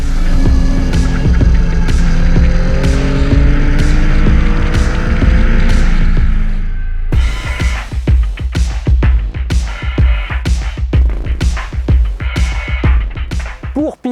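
A 2021 Yamaha MT-09 motorcycle engine pulls loud and close while riding, a steady throbbing drone rising in pitch, then shifting to a rapid, choppy pulsing with sharp repeated bursts through the second half.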